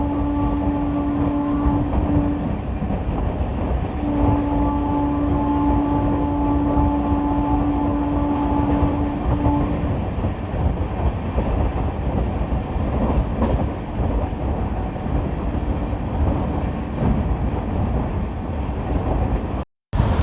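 Hoshiarpur–Agra Cantt Express with LHB coaches running at about 130 km/h, a steady loud rumble and rattle of wheels and carriage throughout, with faint tonal hums, ending in a brief drop-out near the end.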